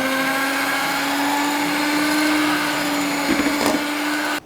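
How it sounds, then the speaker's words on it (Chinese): An electric egg beater whirs at its lowest speed in batter while corn oil is added a little at a time, a steady, close, unbroken motor hum that holds for about four seconds and then cuts off abruptly. "这时候打蛋器调至最低速，分少量多次的加入玉米油75克"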